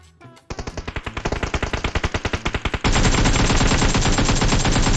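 Rapid automatic gunfire in PUBG Mobile on Sanhok, a fast string of sharp shots that gives way to a dense, continuous roar of fire, loud and close with no talking.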